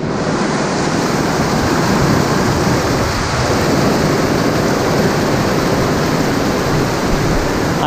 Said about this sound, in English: Oh yeah, also, it's been raining.